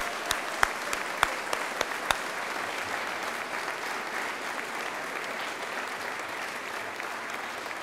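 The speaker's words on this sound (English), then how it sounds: "Please join me in giving them a round of applause and appreciation." Audience applause fills a public event celebrating the Great River Passage plan in St. Paul on the Mississippi, a steady wash of clapping from a crowd, with a few sharp claps standing out near the start before it settles into even, sustained applause.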